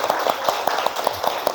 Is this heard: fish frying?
no